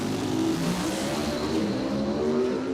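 A Studebaker drag car in a Pro Stock-style class accelerates hard at a dragway, a loud continuous engine roar with a gear change into second, heard at a distance without voices.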